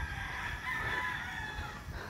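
A rooster crows in the distance by the Balalan River in Santa Cruz, Davao del Sur, a drawn-out call carrying over steady background noise, with no one speaking.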